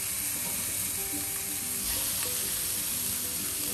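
Oxtails sear in a preheated skillet with a steady, loud, broadband sizzle and hiss that runs unbroken from start to finish, with faint clatter under it and no voices.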